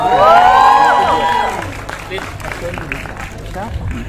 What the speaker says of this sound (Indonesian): Dan juga kita berikan tepuk tangan untuk sutradara dari film Kanzab, Anggi Umbara